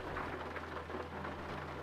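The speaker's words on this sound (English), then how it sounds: "oh, it's still raining." Simulated rain in Euro Truck Simulator, heard from a Volvo truck, falls as a steady, even hiss with a low constant rumble under it, moderately quiet and unbroken.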